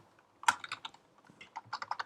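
Brief, close computer keyboard typing of the words Minecraft Tools: a quick irregular run of soft key clicks with one louder tap near the start.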